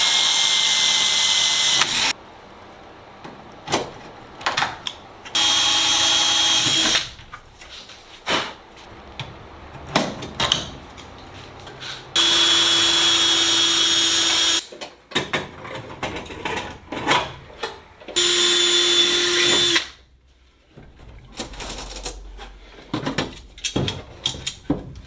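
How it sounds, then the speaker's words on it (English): Pilot holes are drilled into the aluminum tail cone box of a Sonex aircraft fuselage, with repeated bursts of a high-pitched power drill whining a few seconds each, separated by quieter clicks and handling noises, close and loud. "start drilling my pilot holes into here"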